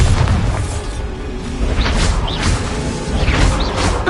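Bombarda spell blasts in the Hogwarts Legacy video game, heard as loud booming explosions with whooshing bursts layered over continuous rumbling action.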